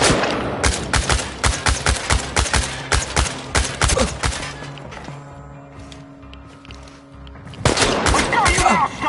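Rapid bursts of gunfire in the Chernobylite game crackle through a firefight, dense volleys for several seconds, a lull with a low droning hum, then another loud flurry of shots at the end.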